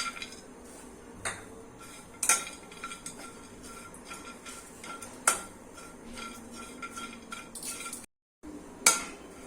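Sliced dried coconut dry-roasting in a hot kadhai, heard as a soft rustling bed broken by sharp metallic clinks and scrapes of a spatula every second or two, with a brief dropout near the end.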